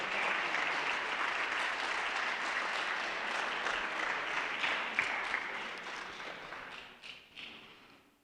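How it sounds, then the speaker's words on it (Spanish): Church congregation applauding God, a steady wash of many hands clapping at moderate distance that gradually thins and tapers off toward the end. "Denle un aplauso a Dios si lo cree"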